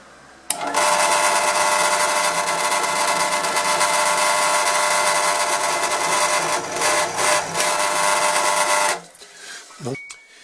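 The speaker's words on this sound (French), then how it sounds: "J'ai serré le forêt de 8 mm dans le mandrin et je vais procéder au perçage." Electric drill boring with an 8 mm HSS twist bit lubricated with cutting oil, a loud steady whine running about eight seconds before cutting off, followed by faint handling noise.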